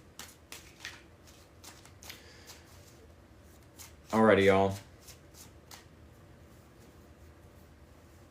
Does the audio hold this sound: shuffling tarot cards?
yes